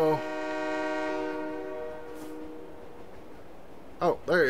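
A loud, sustained multi-tone train horn blares in Farming Simulator 22, then fades under the rumble of the passing train; a voice speaks near the end.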